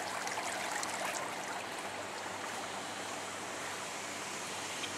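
Water in an empty hotel resort swimming pool, a steady soft wash of lapping and trickling noise at low volume with no voices.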